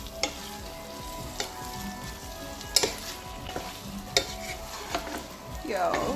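Deboned chicken cooks in a pot for jollof rice, sizzling and frying steadily with a few sharp clinks of stirring against the pot.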